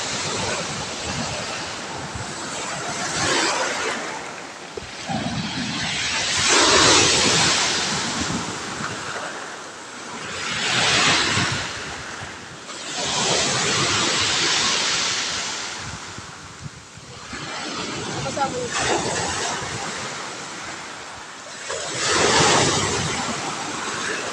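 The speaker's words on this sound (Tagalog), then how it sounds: "nandito tayo sa gilid ng dagat ngayon" Sea waves roll onto the shore in slow, repeated surges, each swelling and fading, with wind buffeting the microphone throughout.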